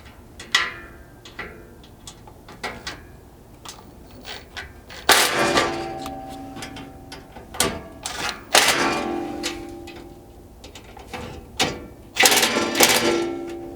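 Cargo basket bolts inside a Jeep JL Wrangler are tightened with a hex key. There are irregular sharp metallic clicks and ratcheting bursts, some close and loud, separated by quiet pauses.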